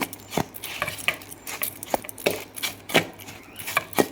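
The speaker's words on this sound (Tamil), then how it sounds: "இந்த பாவை வந்து இதில் ஊற்றி அப்படியே கிண்டி பூரணத்தை ரெடி பண்ணிக்குவோம்" Ladle stirring jaggery syrup into a sweet kozhukattai filling in a pot, with irregular scraping knocks and clacks of metal against the vessel, close and fairly loud, no voices.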